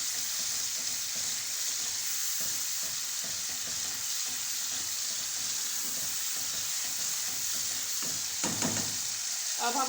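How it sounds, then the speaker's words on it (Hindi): Baby potatoes frying in a hot pan for spicy chilli potatoes, with a loud, continuous close sizzle and crackle and occasional stirring scrapes, a brief clatter near the end. "इसमें हम अपने बेबी पोटैटोस डालेंगे।"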